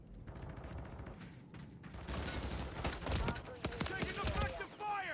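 Video game gunfire from a live-streamed shooter, quiet at first, then dense bursts of rapid shots and clattering impacts that swell loud over the second half.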